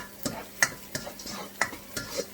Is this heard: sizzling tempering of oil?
yes